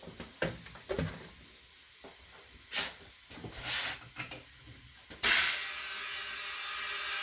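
Compressed air on a tire machine while a tire is seated on its rim: scattered clanks and knocks, then a sudden loud hiss that keeps rushing steadily to the end, close by.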